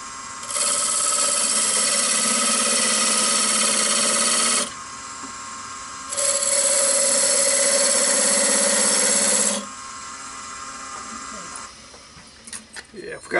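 Wood lathe spinning at 1,000 RPM while turning an offset hammer handle, a loud steady whine in two long runs with a brief lull between, tapering into lighter rubbing and knocks, no words.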